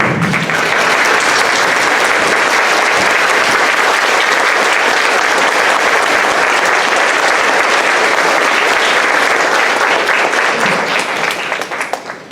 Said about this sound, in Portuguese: vocês merecem ser aplaudidas de pé